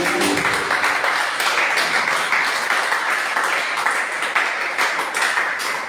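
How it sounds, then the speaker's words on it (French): A church congregation applauds the Lord during a worship service, a steady dense wash of many hands clapping that stays even and loud throughout, with no clear voices over it. "On applaudit le Seigneur, s'il vous plaît."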